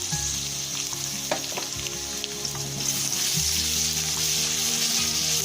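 Garlic frying in oil with onions browned to a reddish colour, as the base for a moong dal, a steady loud sizzle with faint stirring scrapes throughout.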